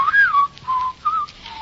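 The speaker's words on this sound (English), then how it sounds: "Shan't whistle. Go outdoors and whistle in the street." A man whistles a short wavering tune in three brief phrases with gaps between them, close and clear, with no talk, in an indoor shop scene from a radio drama.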